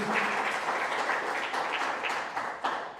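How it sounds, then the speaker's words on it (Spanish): A church congregation applauding during a Spanish-language worship service, a continuous wash of clapping hands throughout at moderate level, fairly close, without speech over it. "Dale un aplauso al Señor."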